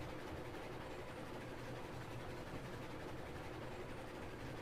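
Locomotive engine noise from the Railroads Online train game: an even, low mechanical drone with faint rail clatter, steady and subdued throughout, no talking.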